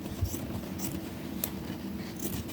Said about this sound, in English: So I cut around the sleeve.